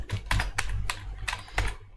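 Someone types on a computer keyboard, with quick, close, crisp key clicks and a few louder taps over two seconds, no voices.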